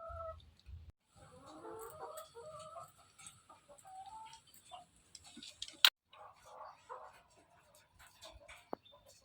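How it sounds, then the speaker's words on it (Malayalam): Chickens cluck and call softly at a distance amid a quiet outdoor backdrop, with scattered bird chirps and a sharp tap partway through. "കോഴികളൊക്കെ പാട്ട് പാടുന്നുണ്ട്"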